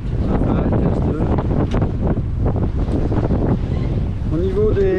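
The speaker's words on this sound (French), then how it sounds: "Donc 17 nœuds, là, il y a une petite rafale, 15 nœuds." A gust blows across a sailboat at sea near Elba, about 17 knots, with loud steady wind roaring over the microphone and a faint rush of water beneath throughout.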